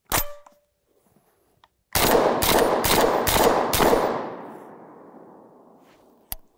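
Five rapid shotgun blasts from a cheap semi-automatic bullpup shotgun, fired right-handed, crack out in quick succession and ring off into a fading outdoor echo, with a single sharp click at the end.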